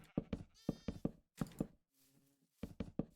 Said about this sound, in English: Baby sheep sound like car horns.